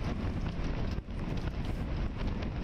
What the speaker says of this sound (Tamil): சென்னை பட்டினப்பாக்கம் கடற்கரையில் பலத்த காற்று வீசி வருகிறது